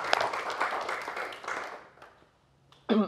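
Audience clapping at a comedy roast, a burst of applause that fades out over two seconds before a voice cuts in at the end.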